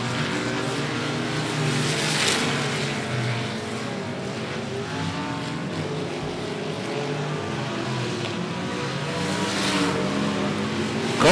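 Race cars circling a dirt speedway at 105 Speedway in a regular race program, a steady far-off engine drone that swells and fades with passing cars and continues unbroken throughout.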